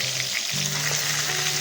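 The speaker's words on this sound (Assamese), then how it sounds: "এয়া মই বৰিয়লাখিনি ধুনীয়াকৈ কাটি বাছি লৈ এয়া মই এতিয়া ফ্ৰাই কৰিছোঁ" Boriola fish, cleaned and cut, fries in a pan with a steady, loud, close sizzle that continues unbroken throughout.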